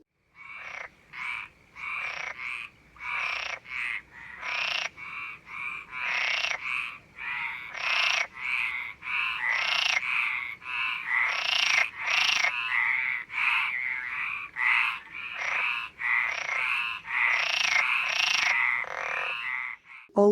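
A dense chorus of swamp frogs croaking in rapid, repeated bursts, loud and continuous with overlapping calls throughout.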